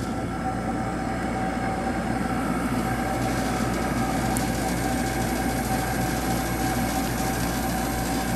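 A 1997 Sharp window air conditioner using R22, set on low, runs with a constant mechanical drone and faint steady tones, close and unvarying, with no voices over it.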